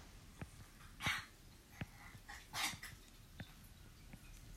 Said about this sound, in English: My dog's choking something up.